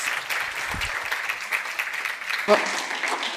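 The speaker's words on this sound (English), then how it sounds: "a round of applause for Marcos" An audience applauds keynote speaker Marcos Allende at a conference before open questions from the floor: steady, continuous clapping that holds at a moderate level for about three seconds.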